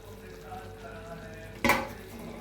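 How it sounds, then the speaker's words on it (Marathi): Shallow-fried okra is stirred into bubbling gravy in a pot, a low simmering hiss under one brief, sharp scrape of a spoon against the pan. "व्यवस्थित ही भेंडी सगळी मिक्स करून घ्यायची आहे आपल्याला।"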